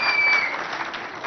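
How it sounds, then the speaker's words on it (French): A school audience applauds at a provincial inter-school contest, a short burst of dense clapping close by, with a faint electronic tone over the first moments. "On applaudit pour tout le monde."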